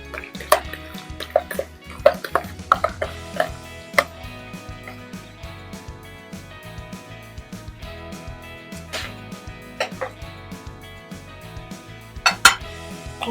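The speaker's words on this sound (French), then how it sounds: "il ne faut pas les couper trop fins" Onions are chopped with a knife for chicken yassa, sharp irregular knocks and clinks of blade and board, some closely spaced, with faint dish and utensil clatter in between and no talk.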